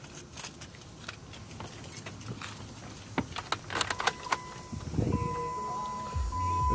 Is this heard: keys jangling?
yes